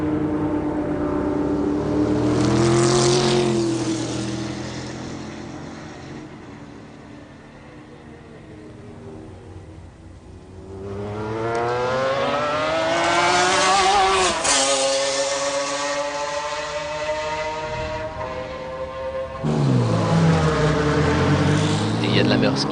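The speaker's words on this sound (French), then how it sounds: "superbe balai des deux McLaren F1 GTR à la première chicane" McLaren F1 GTR race cars at the first chicane at Le Mans in 1996, engines rising and falling in loud sweeping revs as they brake, downshift and accelerate away in passes, under a commentator's voice.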